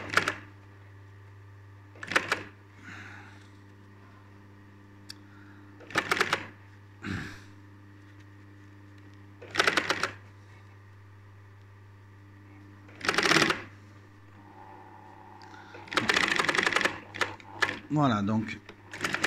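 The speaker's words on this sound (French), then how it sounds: "on termine avec une surpiqûre concernant l'assemblage" Sewing machine topstitching the upholstery seam on a bar stool, heard in several short, close whirring bursts separated by pauses and steady background hum, with brief speech between runs.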